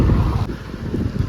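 Cool wind gusting steadily through an open door, a continuous close rumbling whoosh like wind buffeting a microphone, with no talking.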